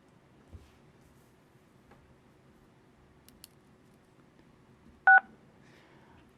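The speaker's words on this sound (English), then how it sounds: "If you will please follow the prompts to unmute by pressing *6." Telephone keypad tones as a caller presses *6 to unmute in a public meeting call, with one clear DTMF beep in near silence after a few faint clicks.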